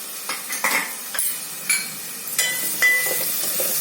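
Spices, garam masala and turmeric, stirred in hot oil in a pan for soybean curry, giving repeated scraping clinks of a spoon against the metal over a soft sizzle, close and fairly loud with no talk.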